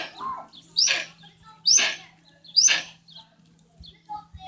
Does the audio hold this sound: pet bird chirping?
yes